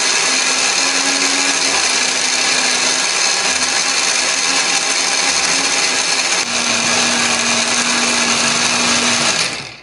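A kitchen blender grinds chopped spice ingredients with added water or oil into a smooth paste for Indonesian home cooking, giving a loud, steady whirring roar that runs the full ten seconds with a brief shift in pitch partway through and no talk.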